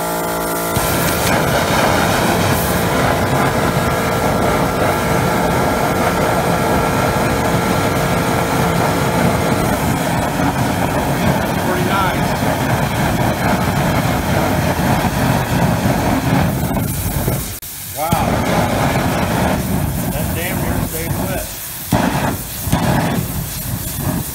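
Waste oil atomizer burner with a vaporizer nozzle running under test, a loud, steady roaring hiss that continues with little change and dips briefly near the end.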